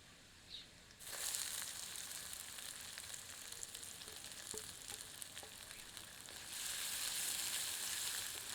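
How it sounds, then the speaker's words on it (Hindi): Chopped onions frying in a pan over medium heat for moong dal khichdi give a continuous close sizzle that swells after a moment and grows louder again near the end, with no voices. "इसे मध्यम आंच पर 2 से 3 मिनट भूनते हैं ताकि यह थोड़ी पारदर्शी दिखने लगे।"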